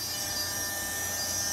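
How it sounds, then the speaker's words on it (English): An Eastwood TG2000 cordless tungsten grinder grinds a tungsten electrode, giving a steady, continuous high whirring and scraping hiss at close range. "That's a Eastwood TG2000 Cordless Tungsten Grinder."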